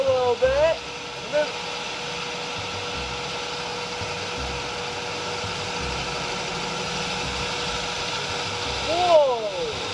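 A small Lego vacuum engine idles with a steady, even mechanical hum and faint vibration, with brief louder bursts near the start and end, and speech appears to be present.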